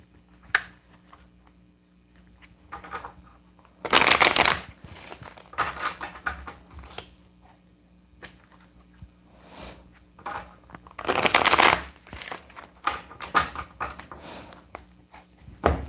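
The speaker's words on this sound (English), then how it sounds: "We're going to shuffle out these tarot cards." Tarot cards are shuffled in two loud riffling bursts, surrounded by softer card handling, taps and rustles in a quiet room.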